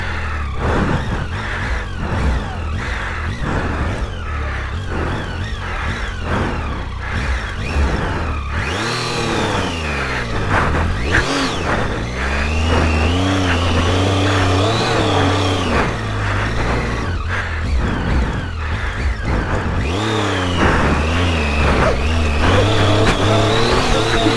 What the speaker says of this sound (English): I just want to get a little bit of a running start. I think I'll just spin out here.